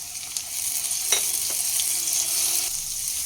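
Steady sizzling of green chilies and garlic paste frying in a hot pan over medium flame, with a brief stir or clink partway through; close and continuous, no talking.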